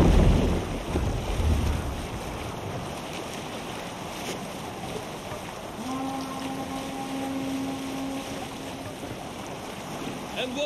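Wind and open-water wash around a Viking longship under sail in Assassin's Creed Valhalla, a steady breezy rush with a long low horn-like tone swelling in the second half.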